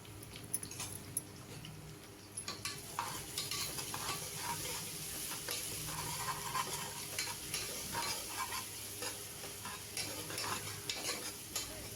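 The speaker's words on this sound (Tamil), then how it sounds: "அரை ஸ்பூன் இஞ்சி பூண்டு பேஸ்ட்டு சேர்த்துக்கலாம். இது நல்லா சேர்த்து நல்லா வதக்கணும்." Ginger garlic paste sautéed and stirred in a pan for a home-style vegetable biryani, with a steady sizzle and frequent scraping stir strokes throughout, fairly close, no talking.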